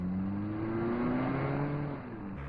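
A car driven fast, engine note climbing steadily in pitch as it accelerates, loud and close, then easing off near the end; no voices.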